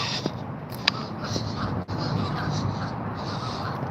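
Crows caw a few times against a steady outdoor background near an apartment, the calls fairly distant and partly blended into the ambient noise.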